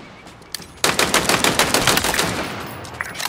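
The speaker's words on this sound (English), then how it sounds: "Headshot these targets once you've dropped their shields." Halo Infinite weapon fire at targets: a rapid, loud automatic burst of close shots rattling on for a couple of seconds after a brief quiet lead-in.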